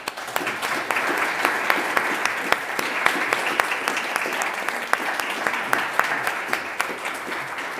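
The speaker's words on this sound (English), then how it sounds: "please join me in giving a big hand of applause to all of our four speakers" Sustained audience applause after a cybersecurity conference panel with four speakers, dense clapping from a crowd in a hall, steady and fairly loud throughout with a few sharper individual claps standing out.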